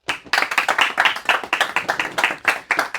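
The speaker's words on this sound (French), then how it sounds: "Applaudissements" A comedy show audience claps in a close, lively burst with sharp individual hand claps, loud and continuous for about three seconds, and no speech.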